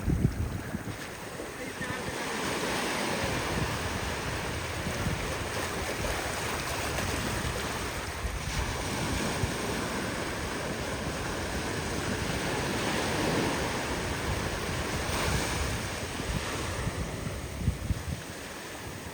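Heavy sea surf off Pondicherry as a small fishing boat pushes out through breaking waves for cast-net fishing, a constant loud broadband wash with strong wind buffeting on the microphone and no speech.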